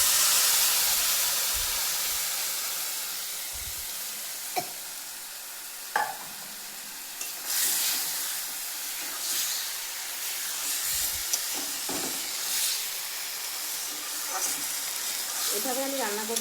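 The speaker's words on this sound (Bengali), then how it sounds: "এবার দিয়ে দেবো যে মুগ ডালটা ভেজে ধুয়ে রেখেছিলাম" Washed, pre-fried moong dal tipped into a pot of khichuri and stirred, giving a soft steady hiss of cooking with a few sharp spoon knocks and scrapes scattered throughout; no one speaks.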